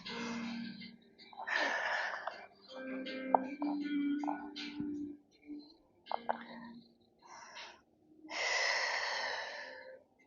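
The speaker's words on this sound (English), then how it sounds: "Three deep breaths." Deep, audible breathing during a lower-body Pilates workout, slow inhales and exhales in roughly three long, close breath cycles with brief pauses between them.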